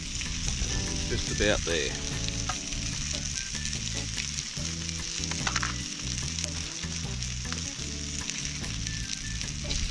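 Sausages sizzle and spit steadily in a hot pan cooked out on a bike trip, a dense continuous frying hiss with occasional pops, while someone briefly speaks over it.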